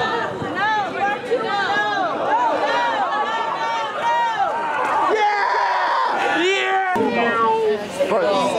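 Children's voices chatter and shout over each other, with high wavering sounds like someone imitating a cat's meow amid the noisy crowd.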